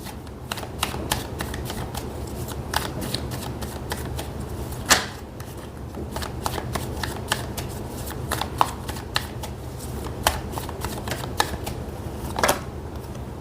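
Tarot cards being shuffled by hand, a steady run of crisp riffling flicks and slaps close by, with no talking over them.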